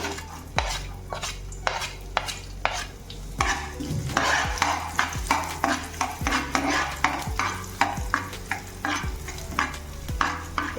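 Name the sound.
ginger and chopped garlic being sautéed and stirred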